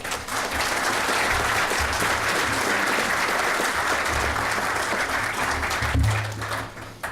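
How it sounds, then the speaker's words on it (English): Seminar audience at a maritime law event gives sustained, dense applause welcoming two speakers, a steady wash of many hands clapping for about seven seconds before tapering off. "So I would ask you to give a big hand and a warm applause"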